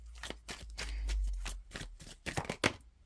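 Tarot cards being shuffled by hand in quick, crisp bursts of riffling and flicking, close and fairly quiet, with short pauses between the flurries.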